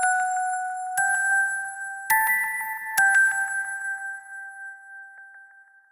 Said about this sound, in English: So with the other bells,